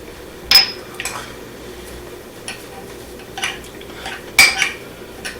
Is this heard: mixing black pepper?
yes